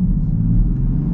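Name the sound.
Land Rover Defender engine air intake and turbo noise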